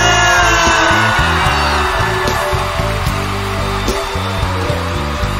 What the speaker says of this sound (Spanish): Yo quiero que se haga un grito de todo Acapulco